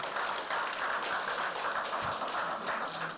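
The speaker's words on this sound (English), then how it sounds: "please give a big round of applause to Honorable Supervisor Joe Saladino." An audience applauds at a Chinese New Year celebration, a quiet, steady wash of clapping that continues evenly throughout without any speech.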